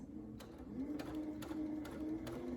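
A Brother Essence VM5200 sewing machine stitches quilting fabric with a steady, close mechanical whir and a faint rhythmic ticking of the needle, running alone without voices.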